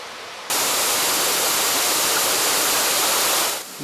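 Abundant water rushes over cascades fed by the Cadière spring, a loud, steady broadband roar that starts abruptly and holds evenly, close to the falls, with no talking.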